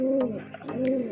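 Racing pigeons at a derby finish loft coo in a short, close, throaty burst with soft warbling dips, joined by a few faint clicks and rustles.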